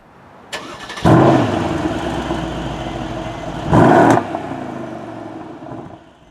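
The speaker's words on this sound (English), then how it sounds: "sounds great, which we're going to show you right now how it sounds" A 2017 Mercedes-Benz AMG CLS63 engine cranks and fires up with a loud bark, settles into a steady rumbling idle, then gives one sharp rev burst before easing back down; close and loud, no talking.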